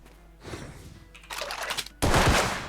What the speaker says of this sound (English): after a few rounds, like 2 to 3 rounds, then she starts firing